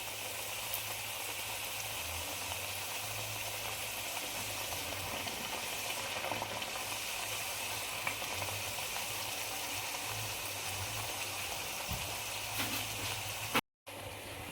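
Methi masala puri deep frying in hot oil, a continuous broadband hiss and bubbling sizzle held at a steady level for the whole stretch, with a brief dropout near the end and no talking.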